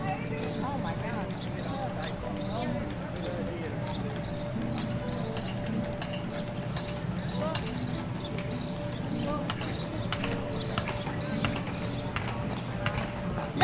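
Horses' hooves clip-clop at a steady walking pace on Mackinac Island, moderately close amid outdoor street noise, with people talking over them throughout.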